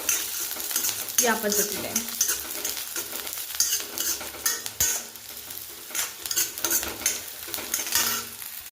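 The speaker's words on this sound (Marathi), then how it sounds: "आता सगळ्या भाज्या परतून घ्यायच्या 1-2 मिनिटासाठी" Vegetables being stirred and sautéed in a pan for masala Maggi noodles, a close, continuous sizzle with repeated scrapes and stirs of a spoon against the pan, and someone briefly speaking over it.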